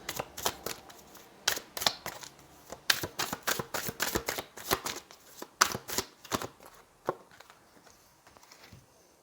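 Tarot cards being shuffled close up, a run of crisp riffling bursts in quick uneven succession that thin out toward the end, heard alone and fairly quiet.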